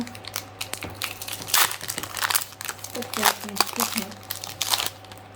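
A Lorcana trading card booster pack is torn open and crinkled, its foil wrapper rustling and crunching in bursts close to the mic while people talk over it.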